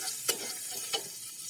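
Onion paste sizzles softly in hot oil already flavoured with fried black cumin for a prawn dish, a steady faint frying hiss broken by two brief stirring scrapes.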